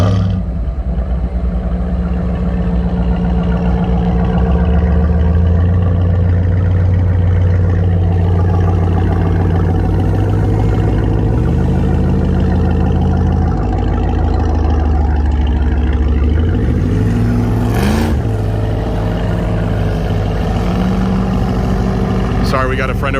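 A Ram TRX fitted with a Corsa Xtreme exhaust starts up and settles into a loud, deep, steady idle, its pitch stepping up and down twice, close by with constant engine drone throughout.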